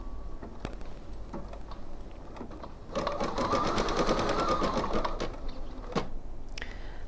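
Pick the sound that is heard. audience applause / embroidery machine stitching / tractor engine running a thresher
embroidery machine stitching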